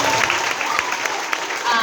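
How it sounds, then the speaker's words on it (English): A short burst of applause from an event audience thanking candy donors, brisk crowded clapping with scattered voices underneath. "Let's give them a round of applause."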